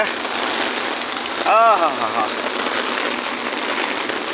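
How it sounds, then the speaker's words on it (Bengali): Heavy rain with a light wind pours down steadily over Dhaka, a dense, continuous hiss at close range, with a brief tonal warble cutting through partway along. "আজকে প্রচুর বৃষ্টি হচ্ছে, দেখেন অনেক বৃষ্টি, ঢাকায় অনেক বৃষ্টি হচ্ছে আজকে।"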